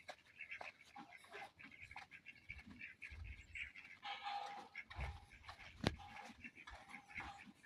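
A flock of about thirty farm ducks quack and squawk, faint and somewhat distant, in scattered calls over quiet outdoor background noise, with no talking.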